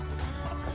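Soft, low chicken clucking murmurs steadily through the short stretch, a close, continuous farmyard chatter with no talk.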